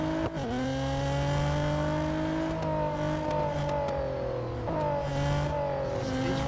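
Race car engine in Real Racing 3 screams at high, steady revs with strong harmonics, dipping briefly at gear changes near the start and late on, loud and continuous with no talk.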